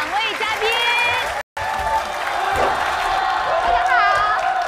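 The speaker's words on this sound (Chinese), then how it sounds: "让我们用热烈的掌声欢迎我们非常熟悉又喜爱的两位嘉宾" Studio audience at a televised Spring Festival gala countdown show applauds and cheers to welcome two guests, steady, full clapping with a few whoops, with music and voices underneath.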